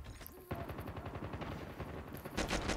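An automatic pistol fires in Call of Duty Mobile, a rapid stream of close, punchy shots forming one continuous burst.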